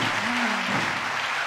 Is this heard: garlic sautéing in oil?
no